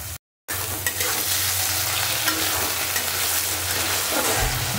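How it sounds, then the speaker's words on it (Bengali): Tomatoes with salt sautéing in a pan, a dense, steady sizzle with stirring scrapes, close and continuous after a brief silent gap at the start, no speech. "আমি টমেটোগুলো ভালো রকম করে কষিয়ে নেব।"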